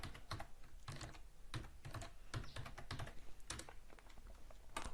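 Someone types a password on a computer keyboard, with irregular bursts of close, crisp key clicks and clacks running steadily throughout and no talking.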